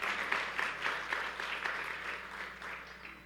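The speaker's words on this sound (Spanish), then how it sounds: "Un aplauso" Audience applause at a church sermon, a full, steady round of clapping from many people with a loose rhythmic pulse, sustained and fairly loud, gradually thinning toward the end.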